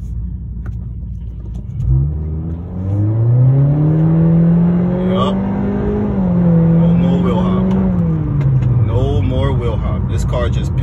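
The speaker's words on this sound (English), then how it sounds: "Let's put this thing in sport real quick and see how it runs." A 2019 Honda Accord 1.5 fitted with an AEM air intake accelerates in sport mode, its engine note rising and holding steady as a loud, close rumble under the cabin. Someone talks over it briefly.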